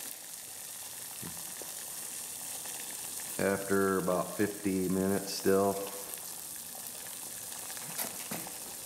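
Water at a rolling boil in a pot on a homemade stainless steel pellet gasifier stove, with a steady hissing, bubbling sizzle throughout and someone speaking briefly over it midway.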